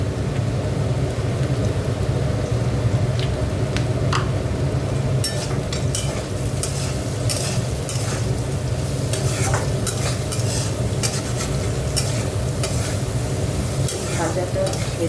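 Continuous sizzling as a vegetable mixture fries in a pan on a home kitchen stove, with steady stirring scrapes and clinks layered over the constant hiss.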